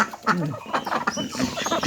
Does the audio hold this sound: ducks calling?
yes